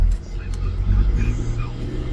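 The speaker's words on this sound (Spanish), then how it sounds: "El carro acelera bastante bien." A used car bought at auction, 141,000 miles, accelerating steadily with a low, continuous engine rumble close by, while a voice speaks over it.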